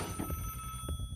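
Telephone bell ringing inside a horror video game, repeating in short bursts over a steady background hum, moderately loud and with no talk over it.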